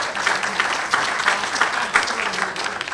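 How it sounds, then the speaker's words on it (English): An audience applauds at a World War II history panel, a dense, even clatter of many hands clapping, close and loud for the whole stretch, with no pauses or voices over it. "just give him a round of applause"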